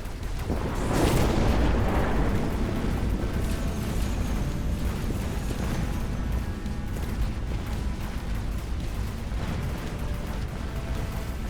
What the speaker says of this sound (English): And he nukes me.